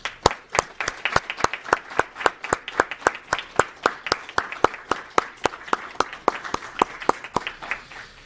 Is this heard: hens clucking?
no